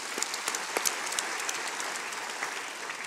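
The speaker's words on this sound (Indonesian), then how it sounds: "Kasih tepuk tangan buat Tuhan Yesus." A church congregation applauding during a worship service, a fairly quiet, even wash of clapping with a few sharper individual claps standing out.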